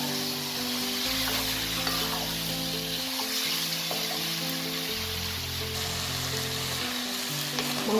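Mutton frying and being stirred with spice masala in a pan for Kolkata-style biryani, a steady close sizzle with occasional scraping stirs and no talk.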